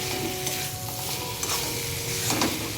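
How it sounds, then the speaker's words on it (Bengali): Mixed vegetables with cumin powder stirred in a pan, close continuous sizzling with repeated spatula scrapes and stirring sounds, no voices. "এবার এর মধ্যে একটু জিরে গুঁড়ো অ্যাড করব, দিয়ে নাড়াচাড়া করে"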